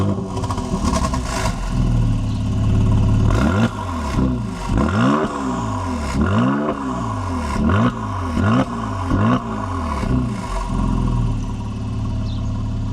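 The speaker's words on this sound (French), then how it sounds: "je démarre la voiture" A Mercedes GLC 43 AMG engine fires up and settles into a steady idle, with repeated throttle blips that make it rev and fall back several times, heard close and loud with no talk over it.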